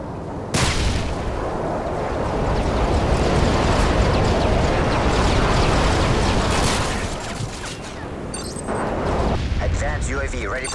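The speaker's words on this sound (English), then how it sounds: "Принято. Бомбы сброшены." Bombs from a stealth airstrike detonate in Call of Duty: Modern Warfare 3, a long, loud rumbling barrage of blasts rolling on for several seconds, easing briefly and then swelling again near the end.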